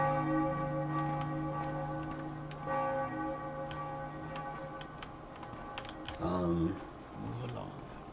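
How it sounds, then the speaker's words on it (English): A big bell rings in the Morrowind video game town, deep sustained tolling strikes with a long ringing hum, with someone talking over it. "listen to that big bell ringing"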